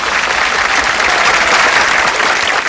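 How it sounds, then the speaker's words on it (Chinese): Audience applause fills the room in a steady, dense wash of clapping, loud and continuous for the full stretch, with no voices standing out above it. "来，掌声啊！"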